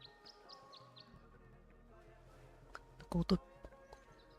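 Bird chirps in a video game: four quick, bright chirps in a row at the start, then quieter background game sounds with a few sharp clicks and thumps near the end.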